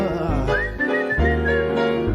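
A melodic whistled tune rises and sustains over a music backing, with a brief dip in the middle before the melody resumes.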